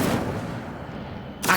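Incendio fire spell cast in the Hogwarts Legacy video game, a dense roaring burst of flame sustained for over a second, then a short bright crackle at the end.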